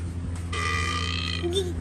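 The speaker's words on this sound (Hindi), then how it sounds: "डकार मार रहा है।" A baby burps, a low throaty belch rising over a steady hum of room noise, close and fairly loud for about a second.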